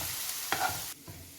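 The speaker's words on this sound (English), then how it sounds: "Stir fry the garlic until it's golden brown." Garlic stir-fried in a pan until golden brown, soft sizzling with a few scraping stirs of a utensil, quiet and close, no talking.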